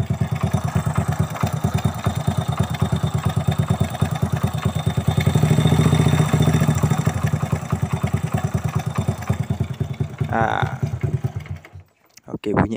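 A Honda EX5 motorcycle engine idles steadily with a rapid mechanical ticking from the rocker arms in the top end, running continuously before cutting off near the end.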